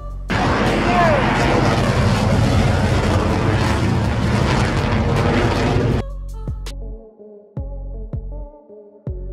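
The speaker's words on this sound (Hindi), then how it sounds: "फाइटर जेट बीच पर मौजूद लोगों के सरों के बिल्कुल करीब से गुजरता है" A fighter jet passes extremely low over people on a beach, a loud, dense roaring blast lasting about six seconds before cutting off abruptly, followed by quieter scattered knocks and clatter.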